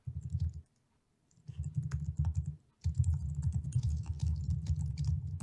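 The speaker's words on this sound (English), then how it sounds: "Have you ever heard your keyboard on a recording?" Computer keyboard typing sounds close and busy: quick clattering keystrokes in two bursts separated by a brief silent pause.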